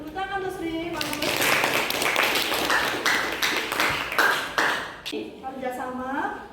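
A small group of students in a health-class lab session claps briefly in a scattered burst, with a teacher's voice speaking before and after the clapping.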